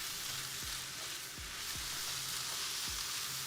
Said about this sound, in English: it looks like it's sauteing nicely